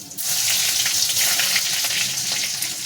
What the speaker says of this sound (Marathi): त्याच्यानंतर कडीपत्ते टाकून घेऊ लसूण टाकून घेऊ